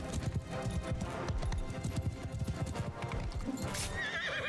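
Rapid hoofbeats of a galloping horse in the video game Mount & Blade II: Bannerlord pound steadily throughout, with a loud neigh rising near the end.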